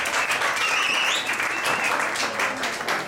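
Loud, steady applause from a live music audience at the Cauz venue, dense clapping with a few whistles and voices mixed in.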